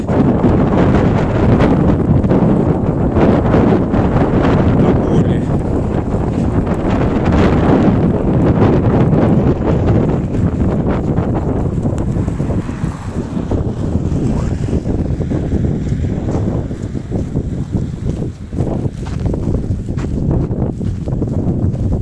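A blizzard wind blows through the town of Anadyr in Chukotka, loud and gusty, roaring and buffeting the microphone without a break and easing only slightly toward the end.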